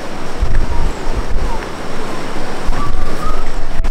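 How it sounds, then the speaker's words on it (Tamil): Floodwater after heavy rain surges forcefully over a bridge, a loud, steady broadband roar with no pauses, close to the microphone and buffeted by some wind. "இங்கே பாருங்க தண்ணி என்ன ஃபோர்ஸில் போயிட்டுருக்குன்னு சொல்லிட்டு அப்படியே பாலத்து மேலேயே போகுது"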